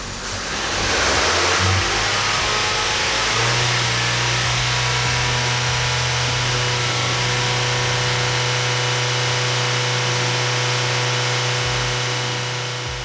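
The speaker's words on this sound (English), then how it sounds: "you want to push the gas a little bit, you want to give a little bit of RPM" A car that lacks power, with its engine given a little throttle during a fuel pressure check, rises in pitch and then holds a steady, raised hum for several seconds. The engine sound is close, with no talking.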